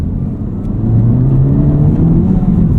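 A Honda Civic Type R FL5 with a COBB Accessport tune in Sport or Plus R mode accelerates hard, its engine note rising steadily in pitch and growing louder, a close, continuous boosted drone with no talking.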